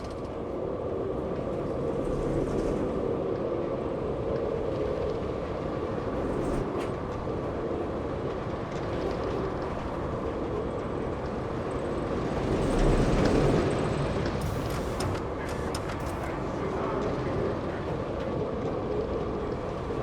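A Giga coaster train running on a kiddie coaster in Planet Coaster gives a steady, continuous rolling rumble throughout, swelling slightly midway, with no talk over it.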